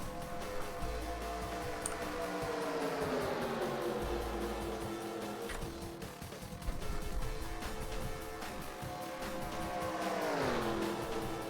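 A lead group of stock cars races at Daytona in a racing video game, their engines droning continuously with rising and falling pitch sweeps as cars pass close by, loud and sustained throughout.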